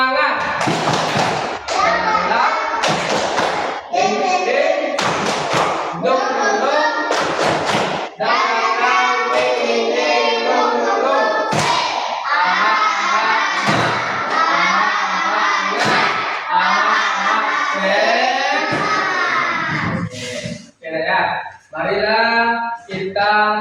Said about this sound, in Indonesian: silakan tepuk semangat